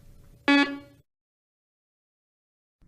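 Garrett PD 6500i walk-through metal detector powering on, giving a single short loud buzzing beep, followed by silence.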